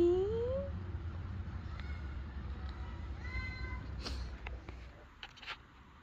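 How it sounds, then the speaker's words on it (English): A cat gives one rising meow, followed by a few softer chirps and squeaks against a quiet, faintly humming background. "There it is, kitty. Meow."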